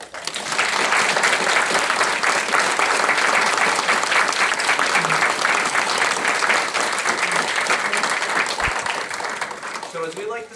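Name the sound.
audience applause at a town board meeting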